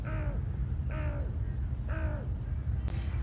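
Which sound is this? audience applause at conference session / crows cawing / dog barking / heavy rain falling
crows cawing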